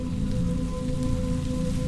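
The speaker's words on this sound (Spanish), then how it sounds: "La lluvia caía despacio, pero constante" Steady rain falls at night with a constant dense patter and hiss, even in level throughout, with a faint hum underneath.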